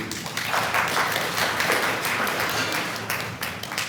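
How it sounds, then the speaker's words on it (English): Audience applause at a meeting in Delhi on defending science and the scientific method, a continuous, fairly loud wash of clapping filling the whole stretch. "I think applause is due"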